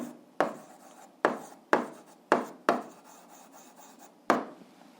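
Writing out an algebra solution by hand, six sharp, close scratchy strokes in an uneven rhythm, each one decaying quickly into a quiet pause before the next.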